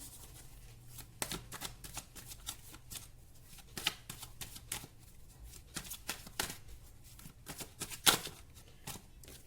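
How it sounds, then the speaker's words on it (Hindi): Tarot cards slip and fall from a deck in a quick, irregular series of soft, close slaps and riffles, some louder flicks standing out, with no talking. "ये देखिए किस तरह से अपने आप कार्ड्स गिर रहे हैं"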